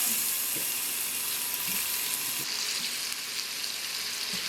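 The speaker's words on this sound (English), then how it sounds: "Nice sizzling sound." Steady, crackling sizzle of bacon frying in a hot pot, continuous and fairly loud with no talking.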